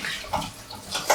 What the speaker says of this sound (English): So rinse it really well and get all that starch out